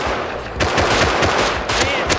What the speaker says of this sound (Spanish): ustedes están disparándole a otros